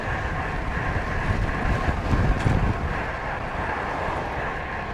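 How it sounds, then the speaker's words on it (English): Strong wind buffeting the microphone during a long solo road bike ride, a loud continuous rumbling roar that swells briefly midway, with no voices. "Windy!"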